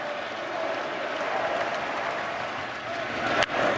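A World Series Game 7 stadium crowd applauds and cheers in relief after a soft out, a broad sustained wash of clapping and noise heard at a distance, with a commentator's voice faintly over it.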